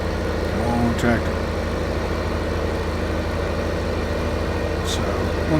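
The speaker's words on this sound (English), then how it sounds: "Come on, tractor." A tractor engine runs steadily at close range, a constant low, rumbling drone that holds without letup across the whole stretch.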